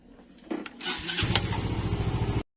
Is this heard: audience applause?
no